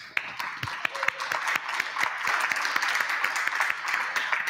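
An audience at a heritage-award public pitch session gives brief applause, scattered claps with a few sharp near ones, and an announcer speaks over it.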